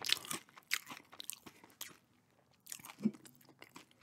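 Nacho Cheese Doritos Minis are crunched and chewed up close, with a quick series of sharp, crisp bites and chews, several per second, pausing briefly midway before resuming, heard alone in quiet.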